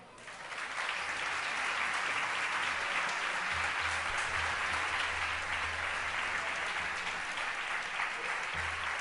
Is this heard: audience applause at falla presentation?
yes